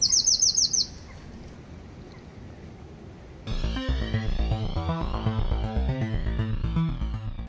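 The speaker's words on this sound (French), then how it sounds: "Il vous faudra sans doute un peu de persévérance pour observer ce troglodyte mignon, surnommé roitelet des haies" A Eurasian wren, a tiny, discreet bird weighing only a few grams, gives a short, high, rapid trill in the first second. Loud music with a steady beat then takes over.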